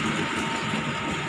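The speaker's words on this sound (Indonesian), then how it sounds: "pas saya lagi jajan, Ka Asindoro lewat." KA Argo Sindoro passenger train passing at an Indonesian station, a dense steady roar of rolling cars close by, loud and unbroken over a very short moment.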